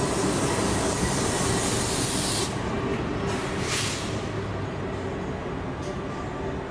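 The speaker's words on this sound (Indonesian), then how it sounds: "Yang baru masuk ini adalah kereta api Brawijaya dari Malang tujuan ke Gambir ya" At Cirebon station around midnight, the Brawijaya passenger train from Malang to Gambir arrives with a loud, steady broadband rumble and hiss that eases slightly after a couple of seconds but stays continuous throughout.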